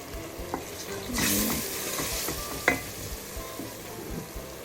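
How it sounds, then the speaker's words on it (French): Ginger, garlic and chili cooking in a little oil in a pan, a close steady sizzle with a sharp burst of frying as ingredients drop in, then lighter crackling and a few clinks of stirring. "Je laisse mijoter pendant quelques minutes."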